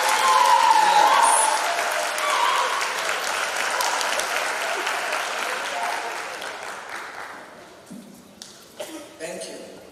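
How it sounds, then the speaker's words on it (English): Big audience applause at a high school graduation ceremony, loud with a few cheers at first, then gradually fading to scattered claps and a murmuring voice near the end. "Stand up and give them a round of applause."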